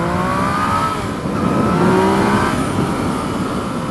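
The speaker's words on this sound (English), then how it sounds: "rev bomb with a stock exhaust" A Yamaha MT-09 (FZ-09) motorcycle with stock exhaust revs up close, its engine note climbing and falling in a couple of throttle blips over a loud, steady idle, with no talking.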